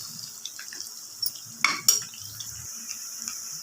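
Mutton pieces for pickle frying in a pan make a quiet sizzle, with a few sharp metal clinks and scrapes as a spoon stirs them. No one speaks.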